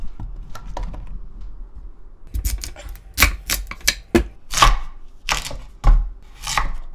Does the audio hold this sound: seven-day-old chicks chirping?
no